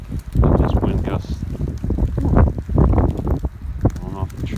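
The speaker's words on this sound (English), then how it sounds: "Wow, listen to that wind." Strong wind gusting through city streets during a heavy snowstorm in New York City, a steady broadband roar rising and falling close to the microphone, with someone talking over it.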